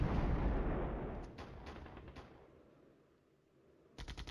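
Artillery fire in the Flashpoint Campaigns war game: a heavy, rumbling barrage that slowly decays into quiet, followed by a quick burst of sharp reports near the end, all at a fairly low level.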